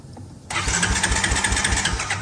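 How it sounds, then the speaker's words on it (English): The starter of a non-running ATV, ignition switched off, begins after a brief quiet and cranks the engine with a rapid, even, chugging rhythm that continues close and loud without the engine catching. "we are going to turn the engine over like that"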